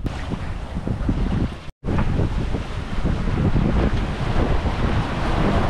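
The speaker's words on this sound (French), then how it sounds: "On a 15 nœuds de vent, travers." Steady loud wind buffeting a sailboat sailing on a beam reach in about 15 knots off the coast of Guadeloupe, with wave wash and hull noise filling the clip, broken by one brief dropout.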